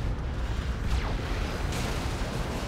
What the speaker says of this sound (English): Plasma cannon getting shots off.